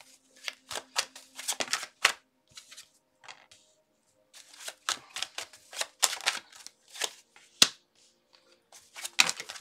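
Tarot cards shuffled by hand in bursts of quick riffling and snapping clicks, close and fairly loud, with short pauses between bursts and no talk.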